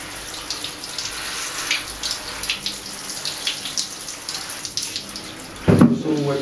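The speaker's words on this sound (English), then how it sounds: "Make sure to wet his fur all over from top to bottom" Tap water runs steadily while a dog's fur is soaked during a bath, a continuous close splashing hiss that swells briefly louder near the end.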